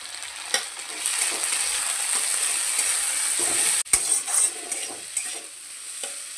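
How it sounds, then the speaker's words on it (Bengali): Ginger and green chilli paste sizzles steadily in a hot pan, with frequent stirring scrapes and light clinks of a spoon running throughout, no voices. "আদা আর কাঁচা লঙ্কাটা দিয়ে ভালো করে একটু ভাজা ভাজা করে নেবো"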